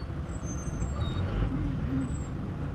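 Busy road in Kayole with heavy traffic and matatu minibuses, a steady dense rumble of engines with a hiss of air brakes and faint high squeals, no talking.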